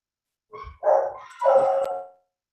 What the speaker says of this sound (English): Can you hear the dogs in the background?